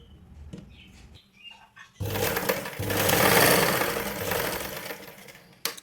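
After a couple of seconds of quiet handling, a sewing machine runs along a blouse shoulder seam, a loud, continuous close whirr that swells, then settles before stopping with a final click.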